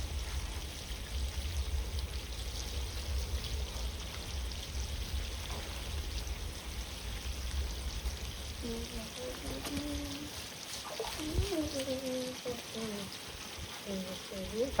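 Water pours steadily while a dog is bathed, a continuous splashing wash through most of the stretch, with voices talking over the latter part.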